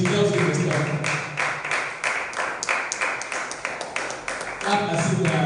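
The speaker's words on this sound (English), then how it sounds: "Please clap until she tells you the story." An audience at a writers' and readers' bootcamp claps for the first speaker, a ragged, moderate burst of hand claps from a modest crowd with voices talking over it.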